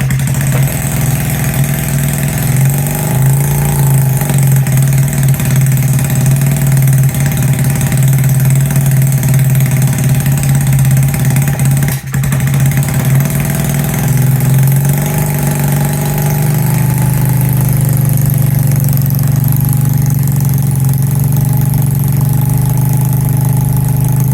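A Honda CT70 motorcycle engine idles steadily after revival on a cold day, a loud close drone with a strong low hum that holds throughout and settles slightly lower toward the end.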